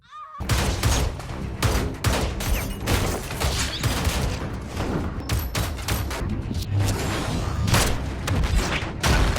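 Gunfire from a dramatic film scene, with dense loud bursts of shots and booming impacts running almost continuously throughout.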